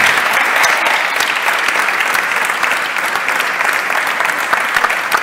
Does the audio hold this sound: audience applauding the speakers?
yes